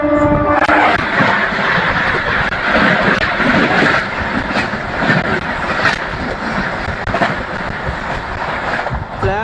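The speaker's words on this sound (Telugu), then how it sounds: "బొకారో ఎక్స్ప్రెస్ అయితే వస్తుందండి మన రైట్ సైడ్ 13352 అండి దాని ట్రైన్ నెంబర్ వచ్చేసి" The Bokaro Express, train 13352, passes on the right beside a moving train, making a loud continuous rumble with rushing wind and repeated sharp clacks throughout.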